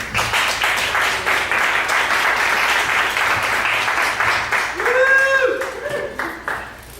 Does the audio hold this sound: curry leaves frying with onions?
no